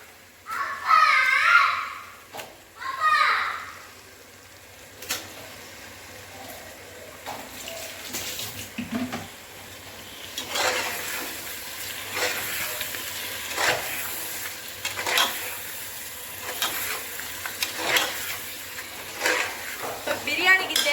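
Raw chicken dropped into a pot of yogurt-based masala for chicken biryani and stirred, with a few clattering scrapes early on, then soft wet sizzling and stirring that continues steadily at moderate volume.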